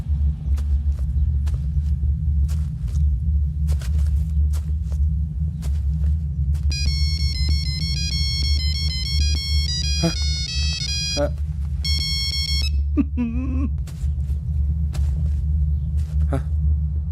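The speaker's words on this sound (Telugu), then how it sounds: "Ring tone sir. Ring tone." A mobile phone ringtone plays a melodic song tune in a police training room, its bright repeating notes rising over a steady low rumble and background movement, with people talking around it.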